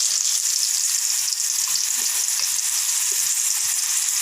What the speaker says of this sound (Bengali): এখন অল্প জিরা দিয়ে দিচ্ছি, কাঁচা লঙ্কা, গোটা গরম মশলা থেতো করে নিয়েছি